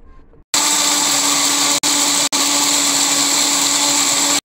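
A blender whirs loudly and steadily at close range, cutting out briefly twice before running on; no one speaks over the motor.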